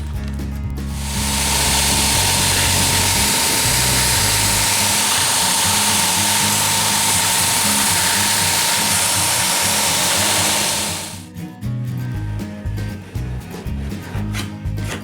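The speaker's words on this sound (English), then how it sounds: "sand those down and get at the rest of the fairing compound" A power sander works fairing compound off a wooden dory, a loud, steady, close whir that holds for about ten seconds before giving way to rougher, uneven knocking and rubbing.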